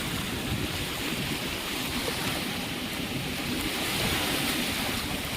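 Sea waves break and splash at Puri beach on the Odisha coast, a steady rushing surf wash mixed with wind noise, continuous and fairly loud, with no voices.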